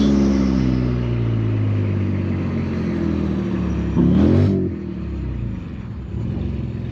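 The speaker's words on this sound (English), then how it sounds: "I just do a burnout." An Infiniti Q60 doing a burnout on the street, its engine droning loudly and steadily with a sharp rise in revs partway through before settling back into a rough rumble.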